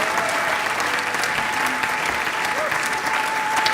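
A church celebration audience gives sustained, dense applause that stays steady and loud from start to finish, with faint voices underneath.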